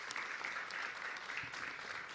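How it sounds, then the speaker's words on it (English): Steady applause from a crowd at a mass vaccination site in Queens, honoring the National Guard and FEMA, an even wash of clapping heard at a distance throughout. "Let's give the National Guard a round of applause and FEMA a round of applause"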